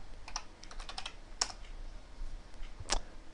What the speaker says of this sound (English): you're going to simply type in the name